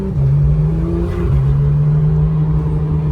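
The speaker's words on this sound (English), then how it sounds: "Hummer behind us, Porsche, Lambo" A Porsche, a Lamborghini and a Hummer driving together, loud close engine drone that rises and shifts pitch as they rev and accelerate, continuous with no talking.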